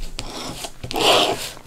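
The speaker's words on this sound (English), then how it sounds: "I'll use my bone folder and just kind of burnish this ribbon part down." A bone folder burnishes a ribbon down onto a handmade card, giving close, soft rasping rubs in a few quick strokes with no talking.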